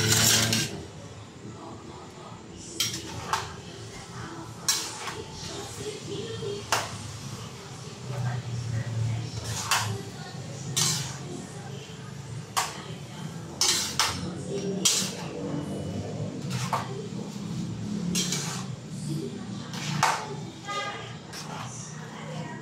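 Pancit being stirred in a metal pot at home, with repeated sharp clinks of a utensil against the pot scattered across the stretch over a low cooking rumble, while someone talks intermittently.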